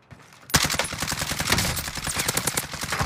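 Rapid automatic gunfire in Call of Duty Warzone Pacific, starting abruptly after a brief quiet moment and continuing as a dense, loud, close burst of shots with no talking.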